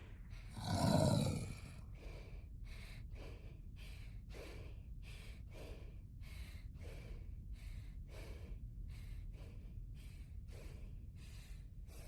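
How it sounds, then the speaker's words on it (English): Pikachu from the Pokémon anime panting after an attack, one loud gasp near the start followed by a long, steady run of short, even breaths. "when Pikachu is panting from the attack, trying not to collapse, its breathing eventually becomes muffled"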